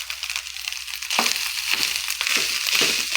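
Fried rice with minced fish sizzles in a pan as it is stirred, a steady hiss of frying broken by scraping and crunchy turning sounds, close and loud.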